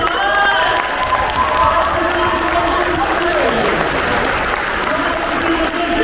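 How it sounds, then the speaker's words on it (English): Audience at a cosplay competition qualifier at a comic convention breaking into loud, sustained applause and cheering from a large crowd, with amplified speech and music continuing over the clapping throughout. "applause!"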